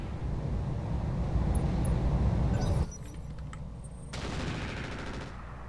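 Rapid gunfire from mech weapons in the battle game Roguetech, a dense sustained barrage that cuts off abruptly, then a quieter stretch followed by another burst of firing with metallic rattles.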